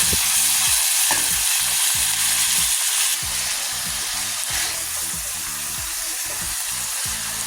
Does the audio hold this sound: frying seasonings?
yes